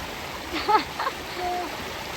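Shallow, cold stream water runs over rocks near the Keremeos Grist Mill, a steady close rushing wash filling the whole clip, with a few brief splashy bursts and a voice speaking faintly over it.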